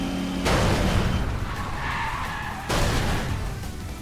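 Race cars skidding off course in the video game Trails Through Daybreak II. Loud tire skids and engine roar come in two bursts, each with an abrupt onset, one early and one near the end, with no talking.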